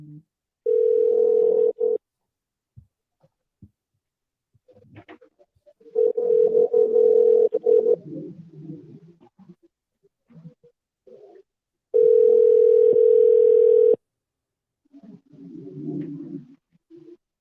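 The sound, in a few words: telephone dial tone while calling back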